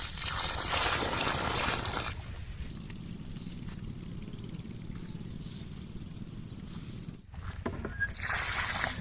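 Water is poured and sloshed onto newly planted trees outdoors, with a brief gush, a long stretch of soft trickling and splashing, then another louder pour at the end, with no talk.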